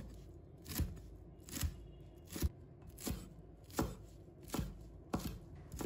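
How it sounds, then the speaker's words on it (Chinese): A knife chops cilantro into short pieces on a board, about eight evenly spaced, fairly loud thuds at a slow steady rhythm, with no voices. "把它切成小段。"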